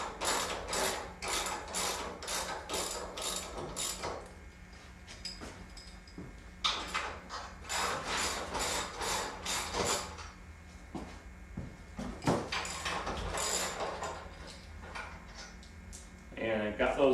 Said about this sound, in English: I'm going to go ahead and take these bolts out of there the rest of the way